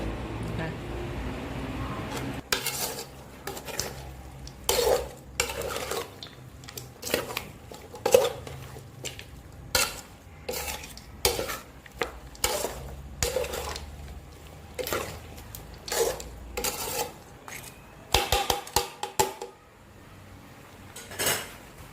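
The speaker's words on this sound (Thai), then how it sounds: "พอแม่ทินหมักได้ที่แม่ทินก็จะไปลวนหมูให้ ให้สุกก่อนนะคะ" Marinated pork leg stir-fried in a pan, with repeated clanks and scrapes of a utensil against the pan in irregular bursts, close and fairly loud, over a low background hum.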